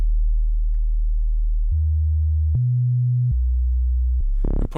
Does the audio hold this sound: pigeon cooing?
no